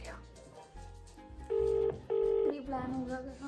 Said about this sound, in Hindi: मैं फोन कर लेती हूँ